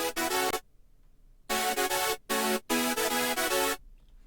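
Hardstyle synth lead built in FL Studio, run through an exciter, playing loud bright sustained chord stabs in three separated bursts with abrupt cutoffs and silence between phrases.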